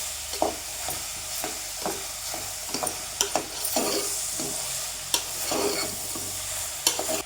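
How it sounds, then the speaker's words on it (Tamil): Onions sauté in a pan for a bottle gourd dish, with a steady sizzle under repeated scraping stirs and occasional sharp ticks of the spoon. The sound is close and continuous, with no voices. "வெங்காயத்தை கொஞ்சம் நல்லா வதக்கிக்கலாம்"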